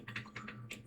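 Quick keystrokes on a computer keyboard as a game name is typed into a search bar, about five close, crisp taps in under a second with no talking.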